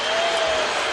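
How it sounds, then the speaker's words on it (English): Basketball arena crowd at an NBA playoff game between Oklahoma City and Denver, booing after Ibaka's demonstrative block, a dense, steady roar of many voices filling the whole second with no break. "The crowd booing because Ibaka so demonstrative after the block."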